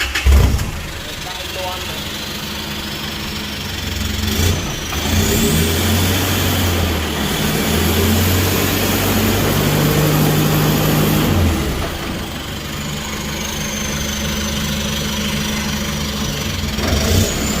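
A motorcycle engine idles and then revs to spin the wheel after a brake and axle adjustment on a 2020 All New model, a loud steady drone with rising surges, and a voice briefly speaks early on.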